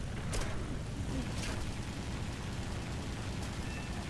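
Enemy aircraft guns fire in War Thunder arcade air combat, a few sharp gunshot bursts over a dense, steady roar of engine and wind.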